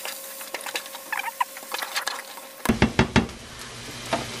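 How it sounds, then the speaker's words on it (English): Chickpeas sautéing with seasonings in a pan for an ackee dish, giving a steady close patter and crackle with scattered sharper pops and clatter toward the end. "I'm gonna leave that to saute for a minute or two"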